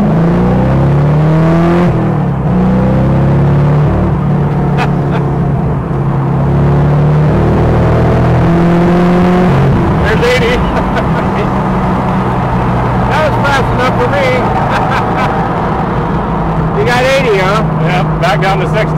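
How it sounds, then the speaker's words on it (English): A 1971 Triumph TR6 sports car engine hums and revs steadily at freeway speed, with road rumble and wind underneath, while people talk over it throughout. "see how it runs and drives down the freeway"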